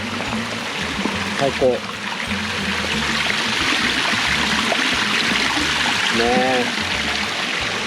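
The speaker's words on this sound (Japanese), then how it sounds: "この川のせせらぎがいいね。" A babbling river stream at a campground flows in a steady, even rush close by, with people talking briefly over it.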